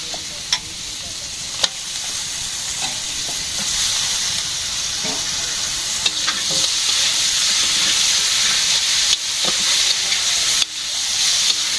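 Chicken meat sizzling and frying in a hot pan, a steady loud hiss with occasional sharp pops and stirring scrapes, close and continuous.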